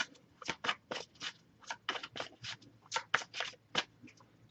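Tarot cards are shuffled by hand in a quiet room, a rapid series of crisp riffling bursts and soft slaps, close and clear, with short pauses between.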